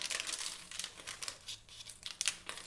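Aluminium hair foil crinkles and crackles as it is folded and flattened, close and fairly quiet, with bursts of papery crumpling coming in quick uneven bunches.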